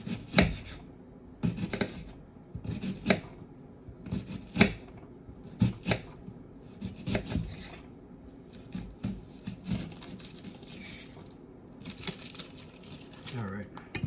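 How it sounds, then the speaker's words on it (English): A knife cuts tomato and onion on a cutting board, giving irregular bursts of crisp chopping strokes separated by short pauses, fairly close, with a voice speaking faintly in the background. "And then we're just going to cut nice little pieces of tomato,"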